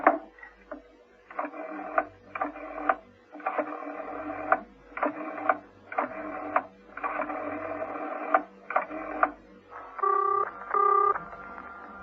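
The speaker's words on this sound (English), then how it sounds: "He'd obtained the number of Baines's home without undue difficulty and proceeded to dial it" A telephone number is dialed in a 1960s British spy drama scene, a series of clipped tone bursts in irregular groups of two and three, fairly close and clear, with a final pair of distinct beeps at the end.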